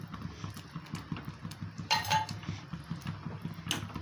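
A spoon scrapes and clinks as urad dal halwa dough is stirred in a pan over low heat, soft repeated scraping strokes with a couple of brighter metallic clinks, close but quiet, no speech.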